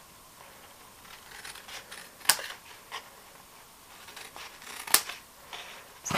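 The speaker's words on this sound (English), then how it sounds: "So we'll snip up the middle." Sharp snips of small scissors cutting through paper for a Christmas treat mug craft, two crisp cuts standing out over faint rustling and handling, close and fairly quiet.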